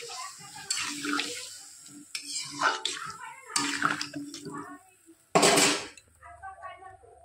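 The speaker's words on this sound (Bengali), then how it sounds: "এবার দিয়ে দেবো পরিমাণ মতো জল।" Water splashes in bursts into a cooking pot of potato, pumpkin and shrimp curry, mixed with clinks of utensils against the pot and a final louder pour.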